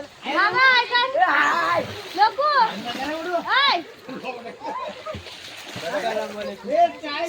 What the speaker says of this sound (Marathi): हे बघा हे लोक सर्व स्विमिंग पूल मध्ये